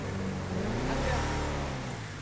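Engine of a Kamacho off-road vehicle in a video game revving with a low, rising and falling drone, moderately loud and continuous.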